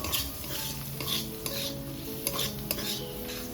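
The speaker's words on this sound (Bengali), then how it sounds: "এই সব উপকরণ আমি হালকা আঁচে ভাজবো" Onion, green chili and ginger frying over low heat in a pan, a soft, quiet sizzle with a few light clinks and scrapes of a spoon stirring, no voices present.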